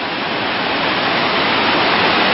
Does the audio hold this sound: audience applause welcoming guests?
no